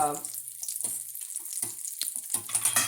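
Keto onion rings frying in hot oil give a steady, soft sizzle throughout, with brief clatters and a low background hum, close by and fairly quiet.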